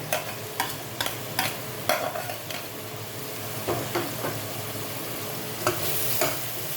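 Szechuan fried rice with vegetables, prawns and shredded chicken stir-fried in a pan, a steady sizzle under repeated scraping and clanking strokes of a spatula at close range, with no talking.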